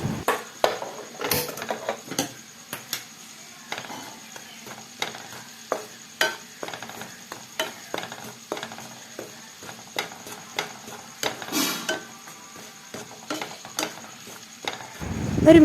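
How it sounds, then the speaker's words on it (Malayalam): Spice powders being stirred in a pan over a medium flame, producing soft, irregular scraping and light sizzling with scattered utensil clicks against the metal, close and steady. "ഒരു മീഡിയം ഫ്ലെയിമിൽ വെച്ച് വേണം പൊടി ചൂടാക്കിയെടുക്കാൻ. കൈവിടാതെ ഇളക്കിക്കൊണ്ടിരിക്കാം."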